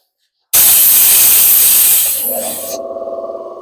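A compressor on a mini steel lathe setup releases a sudden loud, steady hiss of air for a couple of seconds, then shifts to a lower pulsing hum as it settles.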